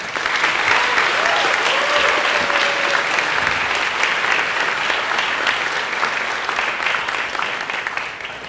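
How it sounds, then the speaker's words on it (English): Sustained applause from a crowd at a school senior banquet fills the room, a dense, even patter of clapping that stays loud and continuous before easing slightly toward the end. "So let's give them a round of applause."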